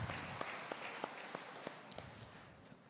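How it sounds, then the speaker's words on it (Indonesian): A university event audience applauds faintly and distantly, a soft wash of many hands with a few sharper individual claps standing out over about three seconds. "Kita tepuk tangan."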